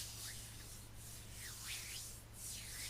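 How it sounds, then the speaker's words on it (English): Hands rubbed together slowly and softly, three or four faint broad swishing strokes in a quiet, close setting. "I invite you to rub your hands together"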